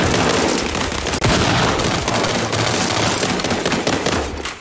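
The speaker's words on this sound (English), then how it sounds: "He's being shot at." Dense, continuous gunfire from the video game World War 3, loud and close, with rapid bursts overlapping into one sustained clatter and a brief dip just past the first second.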